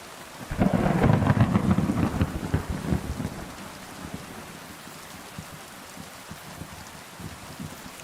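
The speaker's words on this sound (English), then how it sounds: "Whoa! Big lightning strike." A video game thunderstorm: a loud rolling thunder rumble swells early and fades, over steady rain pattering on surfaces that continues to the end, with no talking.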